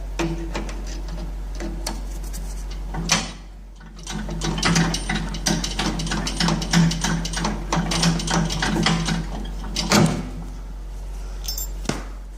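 Removing a cotter pin and washer from a Dixon mower deck: close metallic clicks, taps and scrapes come in irregular bursts with short pauses, with a low steady hum underneath.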